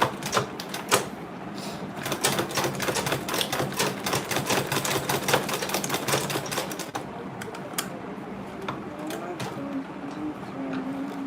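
A sewing machine back stitches a front zipper onto an Ankara fabric tote bag, fast rhythmic needle rattling in close bursts with short pauses, loud and alone apart from a little faint talk.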